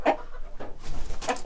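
Laying hens in a coop with roosters present, short nearby clucks and soft bird calls in brief bursts over a quiet barnyard background.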